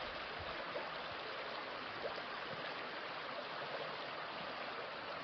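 A flowing creek on a trail crossing, steady broadband rushing water noise throughout, close and even with no talk.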